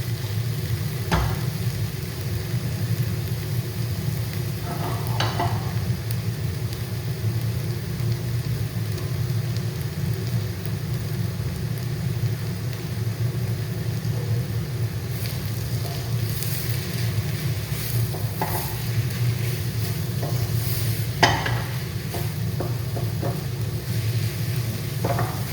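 Carrots sizzle softly in a pan for lentil bolognese, a steady low frying hiss with occasional scrapes and taps of a spoon stirring, continuous and without talk.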